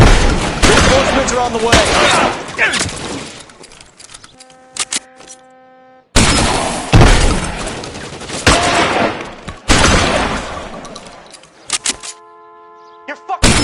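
Heavy gunfire rattles through a police shootout in L.A. Noire, with rapid bursts and loud close shots in two intense stretches separated by brief lulls. A voice speaks over the fighting.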